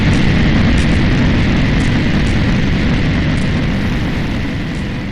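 A massive, sustained roaring blast of a cruise boat hitting a leftover naval mine rumbles with broad noise, loud and continuous before gradually easing toward the end.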